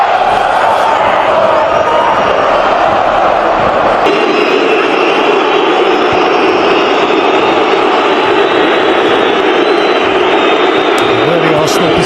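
A pumped-up Spurs football crowd roars loudly and continuously at Tottenham vs Arsenal, a dense stadium din that fills the whole stretch, with a commentator talking over it.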